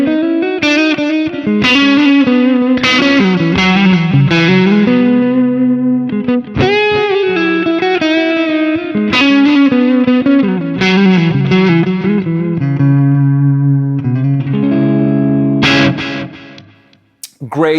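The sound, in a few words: electric guitar with reverb and delay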